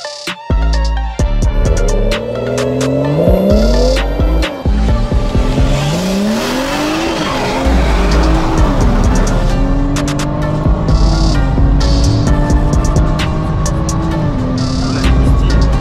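A Zeekr 001 and a Tesla Model 3 Performance launch in a drag race rerun, loud rising electric-motor whine climbing in pitch with tire noise, sustained and close throughout.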